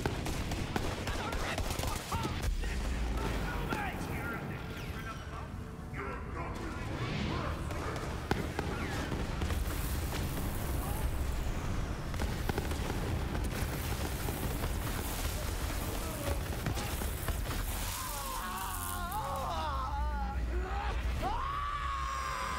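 Dense, continuous gunfire and grenade blasts in the shooter game Borderlands 3, loud and chaotic throughout, with a voice talking over the combat at times.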